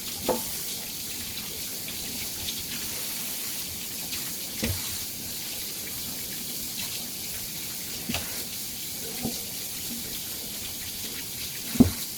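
Tap water running steadily into a kitchen sink while raw chicken is rinsed under it, a continuous hiss with a few soft thumps and clunks of handling scattered throughout.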